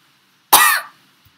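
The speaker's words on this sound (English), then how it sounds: "I felt like I was coughing up a hairball or something." One sharp, close cough with a raspy edge, like hacking up a hairball, after which the room goes quiet.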